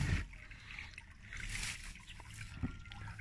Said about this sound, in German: Da kommt Wasser rein.